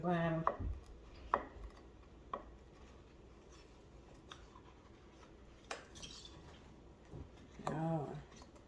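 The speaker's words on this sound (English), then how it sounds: "You can use your judgment how much you want to stir." A spoon stirs inside a jar of homemade apple cider vinegar, giving a few sparse, light clinks and taps spread over several seconds, with a voice speaking briefly at the start and again near the end.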